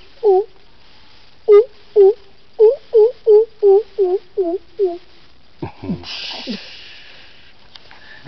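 A person's voice imitates the crow pheasant's call, said to resemble a snake, with a series of about a dozen evenly spaced, hollow hooting notes, loud and close, followed by a short breathy rasp.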